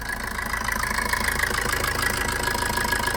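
A 2013 Maruti Suzuki Swift VDI diesel engine idling steadily up close, a continuous even rumble with a faint rhythmic ticking, no voices.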